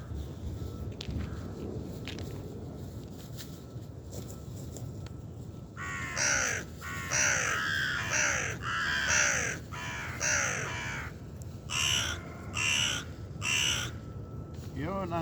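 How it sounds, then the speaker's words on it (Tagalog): Hungry crows caw repeatedly, loud and close in a rapid series of harsh calls after a quieter stretch of outdoor background, with a voice speaking briefly near the end. "Yun ang hungry birds"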